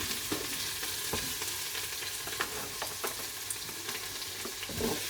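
Bacon lardons frying in a pan, a steady close sizzle and crackle with occasional stirring scrapes, continuous and without voices.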